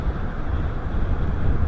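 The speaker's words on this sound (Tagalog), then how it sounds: "Sobrang lakas talaga ng hangin." Strong wind at sea off the Philippines during traditional net fishing, a heavy low roar buffeting the microphone continuously, with no other sounds standing out.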